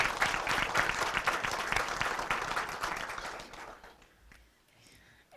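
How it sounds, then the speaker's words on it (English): A spelling bee audience applauds its round 2 spellers, many hands clapping briskly and fairly close, then thinning and fading away toward the end. "Can we have a round of applause for our round 2 spellers?"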